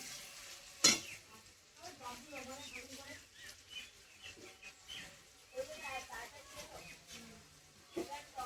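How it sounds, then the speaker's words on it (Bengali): Radish and potato being sautéed with spices in a pan for a fish curry, a quiet, low sizzle with spoon scrapes and stirring, one sharp clink near the start, while a person talks over it. "মশলার সঙ্গে মূলো আর আলু ভালো করে আর একটু কষিয়ে নেব।"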